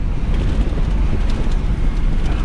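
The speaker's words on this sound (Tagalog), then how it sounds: "Lakas ng hangin." Loud, steady wind buffets the microphone at a housing construction site, with a constant low rumble and roar throughout, and no voices can be heard.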